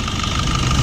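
A car engine idles steadily with its belt pulleys spinning, a close, even mechanical hum with no pauses and no talk.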